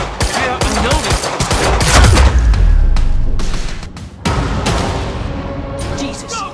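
Armed enemies open fire in Quantum Break: loud, rapid bursts of gunshots and heavy impacts crowd the first four seconds, then sparser shots follow, with panicked voices shouting under the gunfire.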